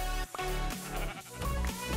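A Minecraft sheep bleats in quick wavering cries, close and loud, a few short nasal calls packed into two seconds over faint game background, with no talking.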